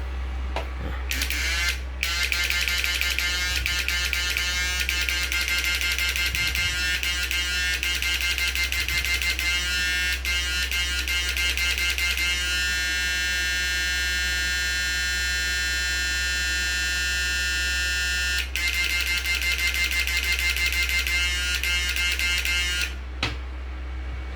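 A small built-in cooling fan mounted underneath a device on a test bench, whirring as a steady electric buzz over a low mains hum, with brief clicks near the start and end.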